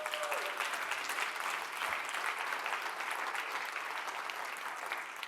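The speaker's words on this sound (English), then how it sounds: "So I would like us just to give him another round of applause." A workshop audience breaks into sustained applause, a dense wash of many hands clapping steadily for the whole stretch, close and even, with no talk over it.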